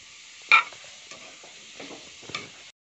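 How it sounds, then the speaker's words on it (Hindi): Grated carrots frying in a pan for carrot halwa, a thin, faint sizzle with a few sharp spoon scrapes and clinks at the start and end, no voices. "तब तक हम गाजर को चलाते रहेंगे जब तक कि इसका रंग चेंज ना हो जाए।"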